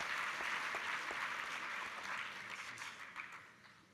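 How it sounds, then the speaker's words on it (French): Audience at a morning conference session clapping steadily, a broad wash of applause that holds for several seconds and slowly tapers off. "je vous demande de l'applaudir"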